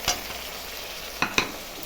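Green chili paste hits softened tomatoes in hot oil, giving a steady low sizzle broken by a few sharp clicks and scrapes of a spoon against the pan.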